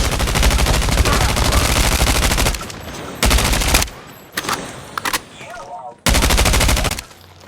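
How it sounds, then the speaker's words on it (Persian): Sniper rifle gunfire in a Call of Duty match: loud bursts of shots come in separate clusters with short quiet gaps between them, close and sharp. "حالا اینجا که من با اسنایپ میزنم دیگه معلومه دیگه."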